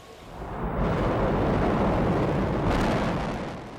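A Soyuz rocket lifts off from the Baikonur Cosmodrome with a deep, continuous roar. The roar swells in the first second and holds loud and steady for several seconds before easing slightly.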